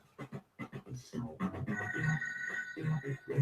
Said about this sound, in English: The phone's still ringing.